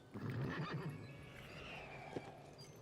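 A horse whinnies loudly and shakily at close range, the neigh trailing off into a breathy snort.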